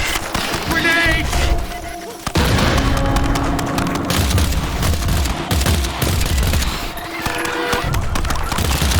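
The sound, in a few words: grenade explosion in the video game EarthFall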